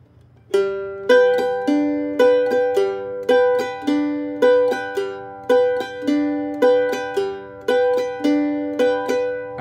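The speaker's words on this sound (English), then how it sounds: "we can mix both those together and add upstrokes after the second and the fourth beats and it would sound like this" Bright plucked mandolin chords strummed in a steady rhythm, each ringing and decaying, with quick lighter upstrokes between the main beats.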